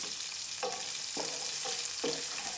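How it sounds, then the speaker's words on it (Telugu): Onions and green chillies frying in a pan for upma, a constant close hiss broken by four regular spatula sweeps scraping through the pan, with no voices. "ఇప్పుడు ఇవన్నీ బాగా మగ్గనిద్దాం, ఫ్రై చేద్దాం"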